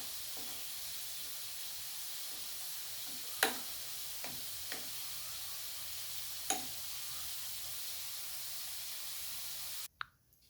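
Eggplant pieces fry in hot oil in a home kitchen pan, a steady close sizzle and hiss broken by a few sharp pops and spits before cutting off near the end.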